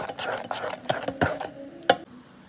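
Melted chocolate is stirred into an egg and sugar mixture for a ragi brownie batter. A utensil scrapes and clinks against the bowl in uneven strokes, ending with one sharper knock.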